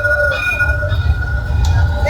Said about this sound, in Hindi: और ये ट्राम जैसे कि आ गई है